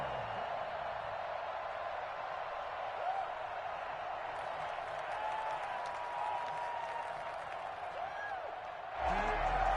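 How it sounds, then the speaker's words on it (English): Crowd applause at a football game for the defense after forcing a fourth down, a steady wash of clapping and cheering from a large stadium audience, continuous and fairly even, with a sharp jump near the end. "How about some applause for the defense there?"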